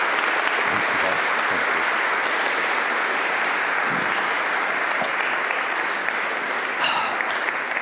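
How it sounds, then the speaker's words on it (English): A lecture audience welcomes speaker Tim Jackson onto the stage with continuous, full-room applause that holds steady for several seconds, with faint voices mixed into the clapping. "Please give a warm applause to Tim Jackson."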